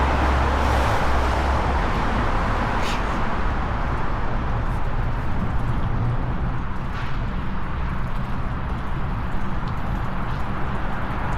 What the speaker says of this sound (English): Cars rushing overhead, don't know what's beneath them.